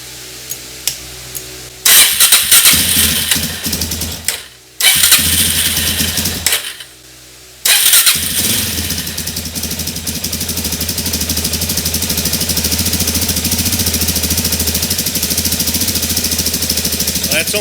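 A 2017 Suzuki DR-Z400 single-cylinder motorcycle engine cranks and sputters in a couple of short bursts that cut out, then catches and settles into a steady, loud, rumbling idle.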